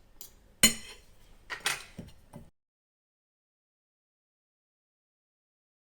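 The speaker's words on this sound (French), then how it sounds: "Et là, il faut écraser le beurre de karité." A fork working shea butter and coconut oil in a dish, a few sharp metallic clinks and scrapes over about two seconds, then silence.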